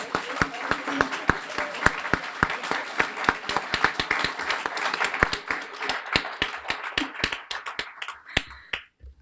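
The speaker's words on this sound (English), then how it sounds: "Let's give us a nice round of applause." At a Guiding Eyes graduation, a room applauds standing volunteers with scattered, sharp individual claps of varying loudness, thinning toward the end, with some murmured voices mixed in.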